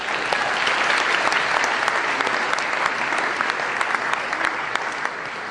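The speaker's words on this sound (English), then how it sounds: "You can applaud." A large audience claps loudly and continuously, a dense, even wash of applause filling the whole stretch without letting up.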